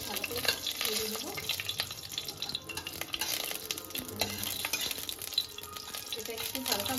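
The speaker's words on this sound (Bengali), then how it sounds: "1 টিস্পুন গোটা ধনিয়া আর 3টে শুকনো লঙ্কা, এই 3টে ফোড়ন হিসেবে যাচ্ছে। ভালো করে ভেজে দেবো।" Whole coriander seeds and dried red chillies crackle in hot oil as a tempering, a dense close sizzle full of small pops and repeated stirring scrapes throughout, with no talk.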